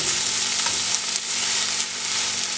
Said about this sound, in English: And give it a little bit of a stir.